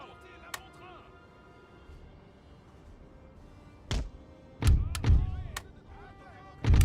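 Cannons of a Napoleonic artillery battery in Napoleon: Total War boom in a few separate heavy blasts, the loudest late in the stretch, over a low battlefield rumble with faint distant reports.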